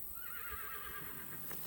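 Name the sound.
horse neighing on farm property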